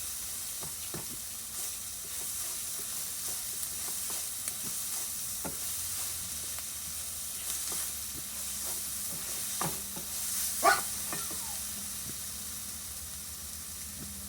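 Morning glory greens stir-fry with curry paste and kaffir lime leaves in a lightly oiled pan, giving a steady soft sizzle with repeated scraping taps of a utensil at irregular intervals; nobody speaks.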